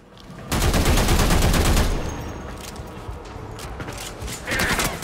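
Rapid automatic gunfire from a weapon in the shooter game Warframe bursts loudly for about two seconds, then continues as quieter scattered shots with a renewed burst at the end.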